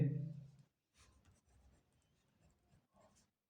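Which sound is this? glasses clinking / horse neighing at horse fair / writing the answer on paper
writing the answer on paper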